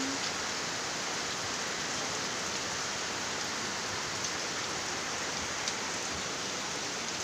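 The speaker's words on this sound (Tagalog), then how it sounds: "Maulan sa lugar namin." Rain falling in a garden with bitter gourd and cabbage plants, a steady even hiss of drops on leaves and surfaces, continuous and fairly soft with no talk.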